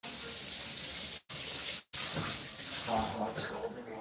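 Hot tap water runs steadily into a frying pan in a home kitchen, a broad close hiss that breaks off twice briefly, with faint voice-like sounds mixed in toward the end.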